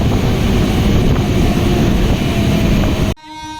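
A local train at Ramsagar station in Bankura rumbles loudly and steadily nearby, the heavy roar cutting off abruptly near the end and leaving a brief quieter tonal sound.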